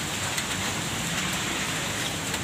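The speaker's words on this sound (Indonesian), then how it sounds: "Hujan cuk, hujan. Gombak hujan." Steady rain falls on a parked car in Gombak, a dense, even hiss of drops on the surface with no voices.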